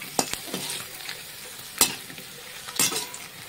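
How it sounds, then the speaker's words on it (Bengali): Papad slipped into hot oil sizzle and crackle loudly, with sharp bursts of frying noise at intervals and a busy hiss in between, close by and with no talking. "তেল গরম হয়ে গেছে, আমি পাঁপড়গুলো ছেড়ে দেবো"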